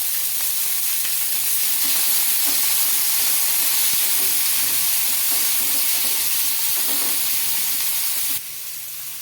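Green chilies, tomato and coconut pieces fry in oil, making a loud, dense, continuous sizzle with faint stirring scrapes, which drops slightly in level just before the end.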